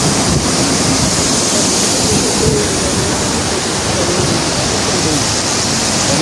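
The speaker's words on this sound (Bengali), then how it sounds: "এই যে ওই পাশের পানিগুলো এখানে আসতেছে আর কি।" Cold mountain water at Lake Garda, Italy, rushes in a steady, loud broadband roar that stays unbroken throughout, with wind buffeting the microphone.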